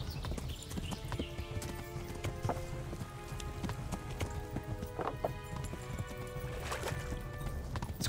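Horse hooves clip-clopping at a steady running pace in Kingdom Come: Deliverance, close and continuous over game ambience and music, with a brief whinny in between.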